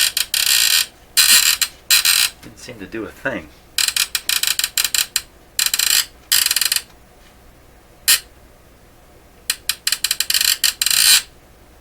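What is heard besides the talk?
Panasonic RC-6253 clock radio alarm mechanism being set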